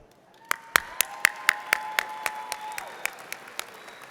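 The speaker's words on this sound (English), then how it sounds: "I want to take a moment and give those that have supported us, many of them here today, very hot, a round of applause" Scattered, sparse clapping from a small number of people at an outdoor college commencement ceremony, single sharp claps spaced irregularly and fairly close, with a faint whistle-like tone running beneath.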